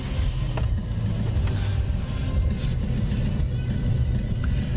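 A car rolls along at speed with a constant low road rumble and engine drone heard from inside the cabin, steady throughout with faint squeaks above.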